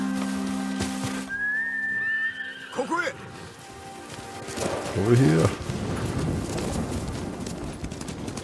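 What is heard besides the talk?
whistling to call horse, then hooves approaching, Ghost of Tsushima video game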